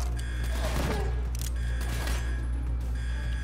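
An annihilator gun fires in the Call of Duty video game: a few sharp, heavy shots burst over a dense, constant bed of low hum and game noise.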